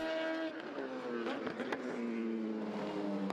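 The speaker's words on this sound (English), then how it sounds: "as the Eurasia car with so much more top speed goes blasting past" A race car at the 2014 Asian Le Mans Series 3 Hours of Fuji blasting down the start-finish straight, a loud sustained engine roar with a pitch shift as it passes close by.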